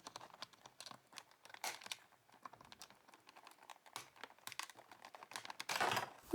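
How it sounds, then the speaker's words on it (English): Plastic packaging is nipped and snipped to free Sylvanian Families Fantastical Fairytale Friends figures, with a run of small, close clicks and crinkles ending in a louder rustling crunch. "Let's nip the plastic to get them out."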